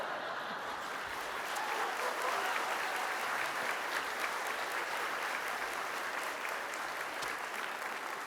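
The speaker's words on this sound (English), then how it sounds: "well, you all applaud" Sustained applause from an audience at a faculty and staff awards ceremony, many hands clapping evenly at moderate distance for several seconds without a break, with no voices over it.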